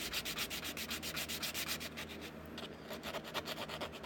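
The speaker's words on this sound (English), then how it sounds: "Take your sandpaper, clean up your edges," Sandpaper is rubbed over the edges of a repaired hard body in steady, regular back-and-forth strokes, each one a close, raspy scrape, keeping a constant rhythm from start to finish with no voices.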